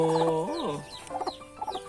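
Hens clucking and chattering inside a backyard chicken coop, several close birds calling at once with rising and falling notes over a steady farmyard background.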